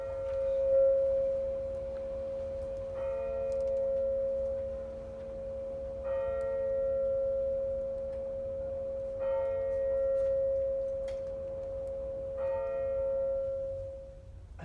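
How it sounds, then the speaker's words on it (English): Clock chiming: a sustained bell tone under a series of evenly spaced, ringing strikes about every three seconds, clear and fairly loud with no voices. "when suddenly the clock chimed again."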